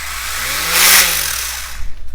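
An RS4 Sport 3 Flux Falken Porsche 911 RC car gets a brief touch of throttle, its electric motor giving a rising, then falling whine with a buzzy vibration. It is loud and close, with no one talking.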